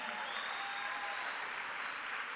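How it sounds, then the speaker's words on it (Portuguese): Audience applause fills a church hall during a worship service celebrating baptisms, a dense, steady wash of clapping from a large crowd, loud and sustained without any talk over it. "Dê uma salva de palmas para Jesus"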